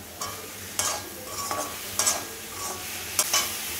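Raw mango with salt and turmeric sautés in a pan for traditional rasam, giving a soft, steady sizzle broken by about six distinct stirring scrapes at irregular intervals.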